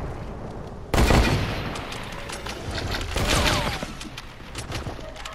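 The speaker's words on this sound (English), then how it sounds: "He's using shotgun right now." Shotgun gunfire in the video game Fortnite, a loud sudden blast followed by a second burst and lingering rattling noise, close and dense.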